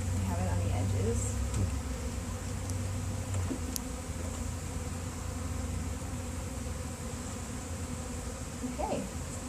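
Honey bees buzz around a hive in a bee garden, a dense, continuous close-up drone with individual insects zipping past over a steady humming bed.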